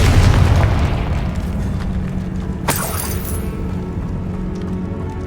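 A Confringo fire-blast spell goes off in Hogwarts Legacy: a heavy booming burst at the start, then a sharp crackling crack partway through, over a sustained rumbling game soundscape with no talk.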